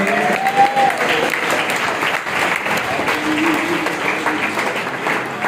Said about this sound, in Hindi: समझ में आ रहा तो ताली बजा के प्रभु को धन्यवाद दीजिए